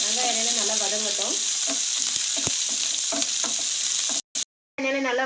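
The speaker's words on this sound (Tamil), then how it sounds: "வெங்காயம் எண்ணெயில நல்லா வதங்கட்டும்." Onions frying in oil in a pan for a soya bean masala fry, a steady broad sizzle with occasional stirring clatter, near and continuous, with a brief cut near the end.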